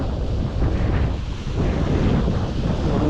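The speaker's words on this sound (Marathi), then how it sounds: "वारा भरपूर आहे" Strong wind at an outdoor fishing spot buffets the microphone in a continuous, loud, low rumbling roar that surges slightly throughout, with no voices.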